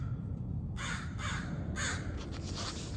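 Crows caw outdoors, about three or four harsh calls in quick succession, moderately distant, over a low rumble of background noise.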